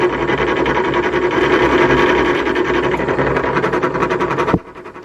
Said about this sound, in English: Let's see if we can drill a 2mm hole.